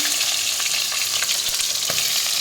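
A tempering of cumin, dried red chillies and green chillies frying in a pan gives a continuous bright crackling sizzle, close and steady, with light scraping stir strokes throughout.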